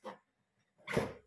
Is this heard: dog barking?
yes